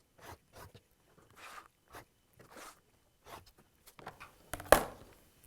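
Fabric being cut out around a quilt template for a memorial quilt, a series of quiet, soft snips and rustles close by, ending in one sharper crunching cut.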